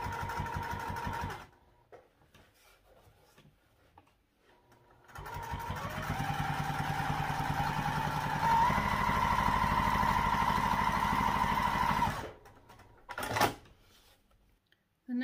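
Sewing machine backstitching a backpack seam: the motor runs in a short burst, pauses, then hums steadily and close for several seconds before stopping, followed by a few handling clicks; no talking.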